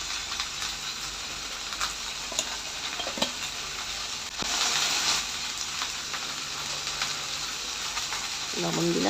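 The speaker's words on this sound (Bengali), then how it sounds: "এখন একটু দেব হলুদের গুঁড়ো আর একটু লবণ দিয়ে, মানে 2-3 মিনিটের মতো একটু ভেজে নেব" Cubed onions frying in oil with turmeric and salt in a pan, a steady close sizzle throughout with occasional ticks of a utensil, growing slightly louder midway.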